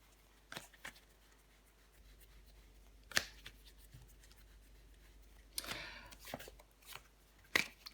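Tarot cards being laid out and handled on a table, with scattered short swishes and slaps of cards and a longer rustling shuffle partway through, close and otherwise quiet.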